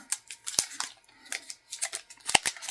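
Trading card packs for a BattleTech Alpha Strike game being torn open, a run of short crinkly rips and rustles in quick irregular bursts, close and fairly loud, with no talking.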